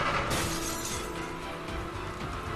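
Glass shatters in a video game, a bright crash followed by a dense, continuous spill of tinkling shards that lasts for several seconds.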